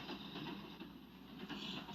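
A train rolls downhill out of the Donner Pass, heard as a steady, muffled rumble of cars and wheels with a faint rhythmic clatter, continuous and moderately quiet throughout.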